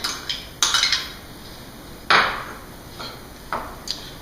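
Brown sugar, cinnamon, crumbs and butter being mixed in a bowl, with a handful of separate clinks and scrapes of a utensil against the bowl, spaced irregularly against a quiet background.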